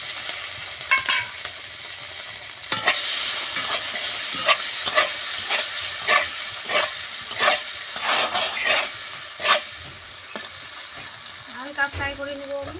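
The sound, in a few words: frying garlic and chillies while stirring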